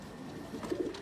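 A large white-eyed pigeon, kept as a fancy breed, gives soft low coos, a few short throaty pulses near the end, close by over a quiet background.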